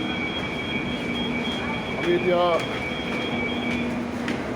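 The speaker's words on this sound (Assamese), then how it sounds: "এখন মেট্ৰ' আহিছে।" An underground metro train pulls into Belgachia station platform with a steady rumble and a brief squeal of wheels partway through, while a person talks over it nearby.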